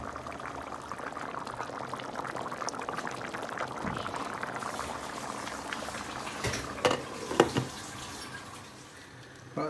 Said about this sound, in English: Beautiful fish cooking away.